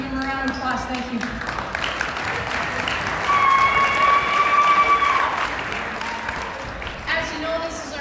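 A gym crowd at a senior night for a school basketball team breaks into sustained applause, a broad wash of clapping with cheering and whistles that swells midway, while a voice speaks over it at the start and end.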